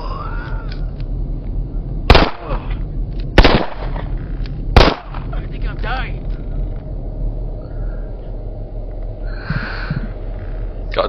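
Three sharp, loud gunshots spaced about a second apart in the VR shooter BoneLab, ringing over a low background hum, followed by quieter clicks and faint bursts as a voice talks.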